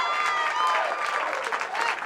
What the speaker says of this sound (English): And the crowd getting a little excited